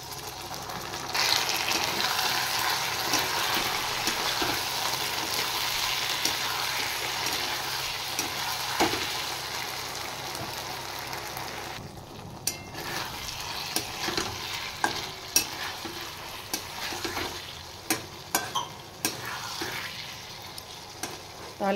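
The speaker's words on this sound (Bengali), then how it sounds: "এবার আমি সামান্য কর্নফ্লাওয়ার গুলে দিয়ে দেব।" Egg dish frying in a pan as cornflour slurry is poured in and stirred, a steady loud sizzle that thins partway through into scattered spatters and clicks of the stirring utensil, no talking.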